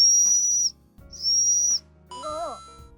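Two long, piercing blasts from a loud personal-safety whistle, close, each under a second, separated by a short pause, followed by a brief warbling tone.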